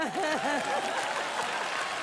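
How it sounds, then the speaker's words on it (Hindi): Studio audience on a TV comedy show breaks into applause, a brief burst of clapping under an excited voice. "जोरदार तालियां हो जाए"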